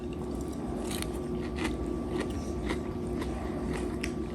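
Someone biting and chewing tonkatsu pork coated in a sauce of oyster sauce, sugar, ketchup and Worcestershire, with soft repeated wet crunches and squishes close to the mic against a faint background hum.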